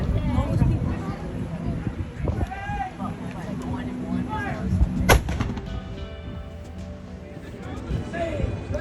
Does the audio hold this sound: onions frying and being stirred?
no